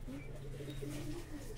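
Pigeons coo softly in low, rolling phrases close at hand over a steady low hum, with faint chirps in the background.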